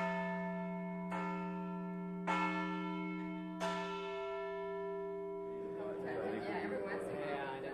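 Large church bells ring in a community bell concert, three distinct clangs at steady intervals with long sustained humming tones, followed by a rougher burst of overlapping bell and crowd noise as people chatter in the background.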